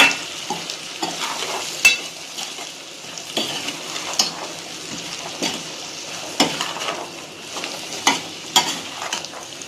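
Red cow pea masala is stirred in a pan over a soft, steady sizzle, with light scraping and occasional sharp clinks of a spoon against the pan at an irregular pace.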